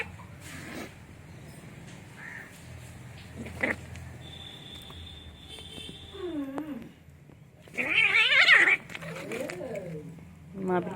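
Pet cats scuffling and calling out during a play fight, with short yowls and a louder squealing cry partway through, mixed with rustling and a person talking nearby.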